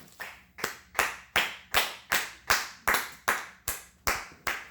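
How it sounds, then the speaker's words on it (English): Nearby clapping from a small group comes in slow, evenly spaced bursts, about ten sharp claps each trailing off briefly before the next, with no voices over them. "Another round of applause for me."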